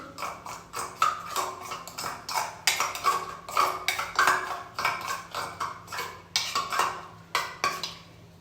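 A spoon mixes papaya pulp with rice flour in a bowl for a papaya face pack, giving a steady run of close, bright clinks and scrapes against the bowl in an uneven stirring rhythm.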